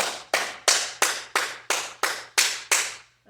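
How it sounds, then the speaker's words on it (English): Hands clap together vigorously about nine times for a qigong paida exercise, each clap sharp and close, evenly spaced in a steady rhythm, with brief silence after the last one. "So you're going to clap your hands together vigorously,"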